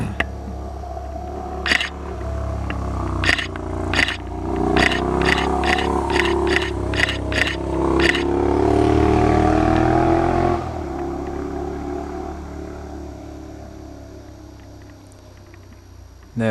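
A motorcycle passes on the winding Tail of the Dragon mountain road, its engine swelling into a loud roar as it sweeps by and then fading away, after a rapid burst of camera shutter clicks.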